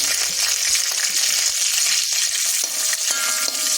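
Curry leaves crackle and sizzle in hot oil in a pan for a soya ball dish, a loud, steady frying hiss with small pops throughout and no talking.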